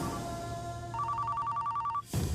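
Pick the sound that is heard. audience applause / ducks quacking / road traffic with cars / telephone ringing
telephone ringing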